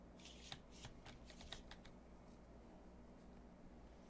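Cards being shuffled in Tabletop Simulator: a quick burst of soft riffling clicks in the first two seconds, faint and close, followed by quiet background hum.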